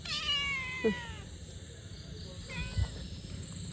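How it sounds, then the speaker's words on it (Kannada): Two cats meowing close by, one drawn-out high meow followed by a shorter one a couple of seconds later, over low background noise. "ಫುಡ್ ಹಾಕ್ತೇನೆ ನಾನು ಬೆಕ್ಕುಗಳಿಗೆ."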